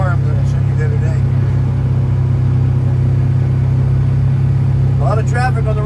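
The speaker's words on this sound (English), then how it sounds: "A lot of traffic on the road today." Steady low rumble of road traffic on a rural farm road at harvest season, an engine droning close by throughout with a faint rise near the end, while someone talks over it at the start and finish.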